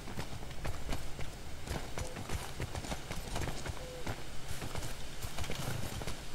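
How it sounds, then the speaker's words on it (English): Steady clip-clop of horse hooves trotting in a video game over a constant ambient background, with a brief whinny-like tone; rhythmic, moderately near, no talking. "It's a horse."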